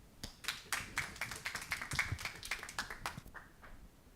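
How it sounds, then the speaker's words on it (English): Sparse, distinct handclaps from a small audience at a talk on digital learning platforms welcome a speaker, individual claps audible in an uneven rhythm that thins out toward the end. "let's welcome her with a warm applause"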